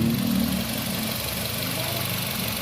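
A 2005 Nissan X-Trail engine idles steadily after a throttle body relearn, giving a continuous even rumble with a faint vibration, close by and without speech.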